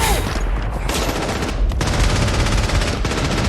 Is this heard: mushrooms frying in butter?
no